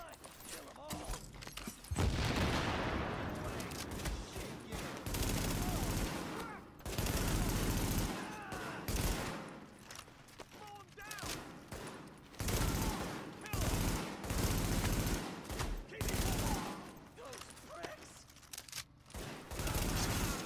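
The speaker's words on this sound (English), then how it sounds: "Heavy fire from the roof." Heavy gunfire in the video game The Division, repeated loud bursts and volleys from rooftop positions mixed with explosions and game effects, coming in waves across the whole stretch.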